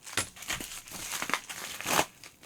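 Quick bursts of crinkling and ripping as an AliExpress mail package is torn open by hand, close and irregular, with brief pauses between tears.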